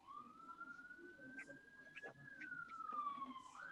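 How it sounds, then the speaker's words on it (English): Ambulance siren passing by outdoors, a single sustained wail that rises, holds, then bends down as it goes past, fairly faint at a distance under general background noise. "Sorry, I've got an ambulance going past me."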